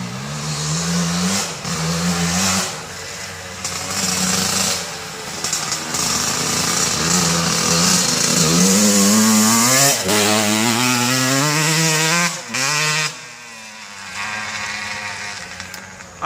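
A 1990 Suzuki RM125 two-stroke dirt bike revving hard while ridden, its buzzing engine climbing and dropping in pitch through repeated throttle bursts, loud and near with short gaps between pulls.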